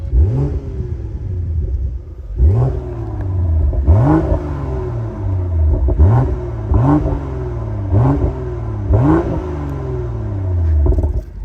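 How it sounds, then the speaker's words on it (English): A BMW M240i engine revs repeatedly in sport mode with exhaust valves open, each throttle blip rising and falling in a loud, throaty roar, about every second and a half. "Let me put it into sport, give it some revs quick. The valves are open."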